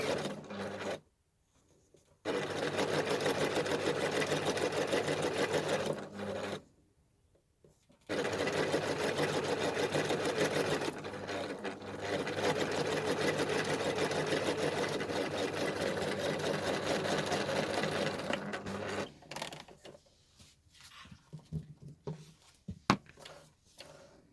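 A sewing machine quilting fabric at a stitch length of about 3 to 3.5 runs in long, loud, steady buzzing stretches, broken by short pauses and ending in quieter handling noises.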